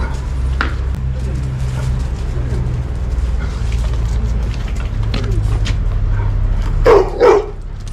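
Dogs on a village farm bark in a couple of sharp bursts near the end, against a steady low rumble and some faint background activity.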